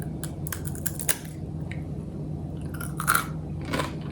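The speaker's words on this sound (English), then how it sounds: "Hear the crunch?" Homemade baked cheese crisps are bitten and chewed close to the mic. Sharp, brittle crunches come in irregular bursts over soft chewing, with no talking.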